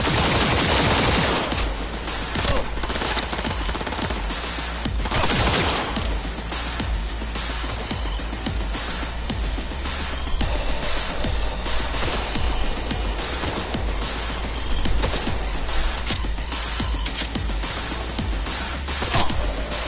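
Sustained video game gunfire from a tech pistol in Cyberpunk 2077, played on PS5, with rapid overlapping shots and explosive bursts running loud and dense for the whole stretch, no talk.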